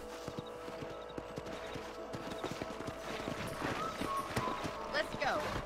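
Hooves clip-clop at a steady gallop as a horse runs in Red Dead Redemption on Xbox 360, mixed with game music and distant ambience, with a couple of brief whinnies near the end.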